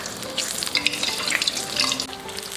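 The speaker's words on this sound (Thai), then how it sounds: "เราก็ตั้งน้ำมันไว้ให้มันร้อนๆนะครับผม จะลงทอดเลยครับ" Crispy pork deep-frying in hot oil, a dense, steady crackle and spitting sizzle that carries close and fairly loud throughout, with no voices.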